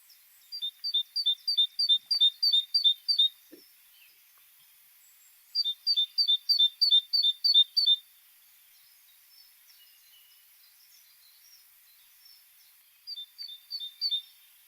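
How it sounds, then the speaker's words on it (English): Great Tit song: three bursts of rapid, repeated high two-note phrases, clear and fairly close, with quiet pauses between them and no other sounds. "So the Great Tit song."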